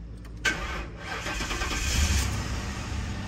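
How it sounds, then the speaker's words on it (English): An old, high-mileage police car's engine starting up: a brief cranking whir, then the engine catches and settles into a steady, fairly quiet idle nearby, with no talk. "All right, let's start her up."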